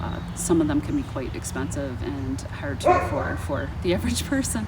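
A dog yips and barks in short bursts, fairly close, under a person speaking steadily the whole time.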